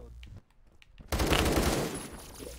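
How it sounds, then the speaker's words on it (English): Rapid gunfire erupts in a Roblox shooter game, a loud dense burst of overlapping shots after a quieter stretch, continuing for over a second before easing off. "I hear gunshots"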